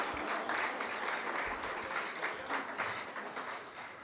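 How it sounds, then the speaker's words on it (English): Sustained audience applause at a Veterans Day ceremony at Washtenaw Community College, honoring a faculty performer; steady, dense clapping from a crowd throughout, fairly distant. "Can we give another round of applause for faculty member Gayle Martin?"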